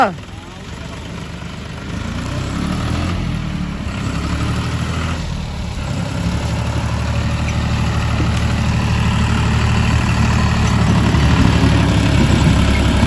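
A John Deere tractor engine idles with a low, steady rumble and chugging hum that holds constant and grows slightly louder toward the end.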